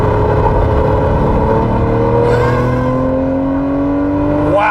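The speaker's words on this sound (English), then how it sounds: "I'm gonna give it a nice bit of gas." A Lamborghini Murcielago LP640 engine accelerates hard on an open highway, a loud, continuous roar climbing steadily in pitch, with a brief shift around the midpoint before it keeps building.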